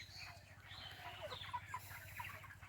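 Faint clucking and chirping from a poultry shed holding about 2200 broiler chickens, 34 days old and around 2 kg each, scattered short calls over a steady low hum, with no talking.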